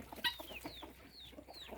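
Household chickens crowd around and cluck softly in short, scattered calls, with a few rising chirps over low background noise.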